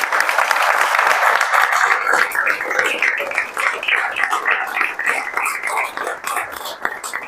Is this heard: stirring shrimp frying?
no